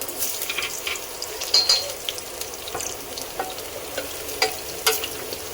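Cumin and chopped garlic fry in hot oil for a village-style mutton curry, giving a steady close crackle with sharp spitting pops and the odd stir, with no voices.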